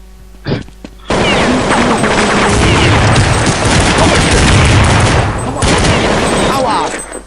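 Sustained AK-47 automatic gunfire in Counter-Strike, a loud, dense fusillade of rapid shots running for several seconds after a brief opening burst, with players' voices partly mixed in.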